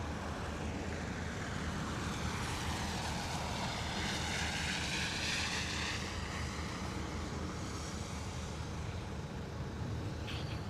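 VistaJet private jet arriving at London Luton Airport in misty weather, a steady broad engine roar that stays fairly loud and even for about ten seconds, with no talking.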